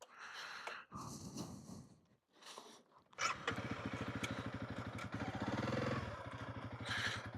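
A Honda CRF300L dual-sport motorcycle pulling away on a road in third gear, its engine rising into a close, steady, pulsing drone after a few seconds of breathy wind and handling noise.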